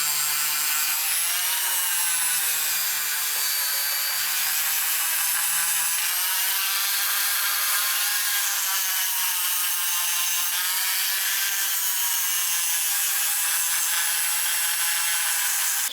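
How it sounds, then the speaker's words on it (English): A buffing wheel polishes the main body of an upcycled object, a continuous high-pitched whirring and rubbing that holds steady and loud throughout, with slight shifts in pressure and no voices. "we'll just do the main body on the buffing wheel"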